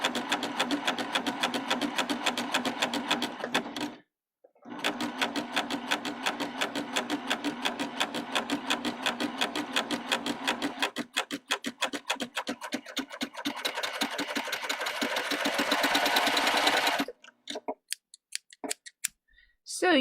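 A serger sewing machine stitching and gathering fabric runs in long rapid bursts of dense mechanical chatter, with a brief pause early on and short stop-start runs near the end.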